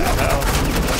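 Dense, rapid gunfire rattles continuously through the short stretch as suppressing fire in the Telltale game Batman: The Enemy Within, loud and unbroken with a voice faintly underneath.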